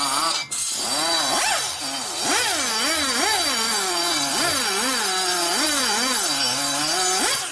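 A cutter being worked by hand into a valve seat on an aluminum cylinder head from a 2004 Harley-Davidson FLHT Twin Cam touring bike, giving a close, continuous squealing scrape whose pitch wavers up and down with each stroke.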